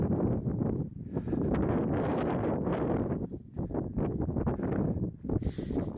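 Strong wind on a mountain ridge in the Khibiny mountains buffets the microphone in heavy, roaring gusts that surge and ease, loud and close throughout.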